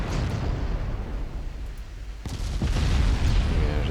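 Naval gunfire and shell explosions in the naval battle game Ultimate Admiral Dreadnoughts, a continuous rumbling barrage of distant booms that swells louder after a sharp blast midway.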